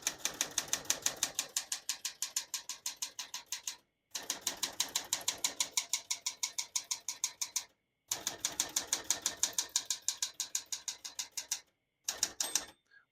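Rapid, rhythmic keystrokes of a 1973 Smith-Corona Galaxie 12 manual portable typewriter clatter in three long runs, separated by brief pauses, then a short final burst.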